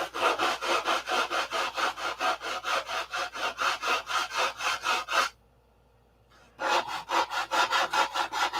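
Rhythmic back-and-forth rasping of a saw cutting through wood, steady strokes, pausing briefly before resuming at the same pace.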